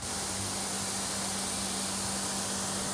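AVA Evolution P80 pressure washer running in dual spray mode, a steady broadband hiss of water jetting with a faint motor hum beneath, continuous and even throughout.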